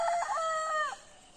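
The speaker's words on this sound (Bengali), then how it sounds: "মুরগিগুলো ডাকতেছে" A rooster gives a single clear crow lasting about a second, close and loud, with no talking; chickens call in the background on a rural homestead.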